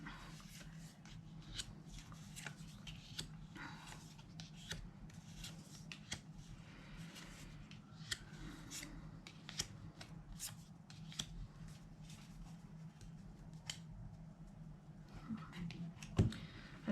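Tarot cards pulled from a deck and laid down, faint close-up papery snaps, slides and shuffling taps at irregular intervals over a quiet background.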